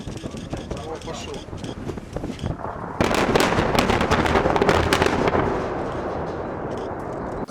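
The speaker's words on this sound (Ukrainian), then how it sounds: "На першотравневому кар'єрі комбінату пролунав мирний вибух" A heavy blast at an iron ore quarry erupts into a broad, rumbling roar that gradually fades, with people talking throughout.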